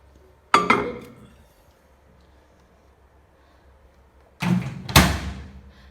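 A microwave oven door opens with a sharp clack and rattle, then after a quiet pause shuts with a shuffle and a firm thud, both close by.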